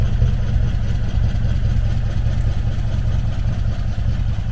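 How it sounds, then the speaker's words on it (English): A 1953 Chevy Bel Air engine with glass-pack mufflers idles smoothly and steadily, a deep even rumble that stays constant at close range. "In idle, it's very smooth."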